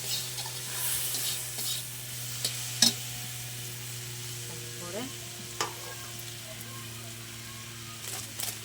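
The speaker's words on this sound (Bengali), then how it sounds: "ভালো করে ভাজিয়ে নিতে হবে। আর কি টমেটোটাকে একটু গলায় নিতে হবে।" Tomatoes frying in a pan and being stirred, a steady low sizzle with occasional scrapes and clicks of the spoon, close by, while a person talks throughout.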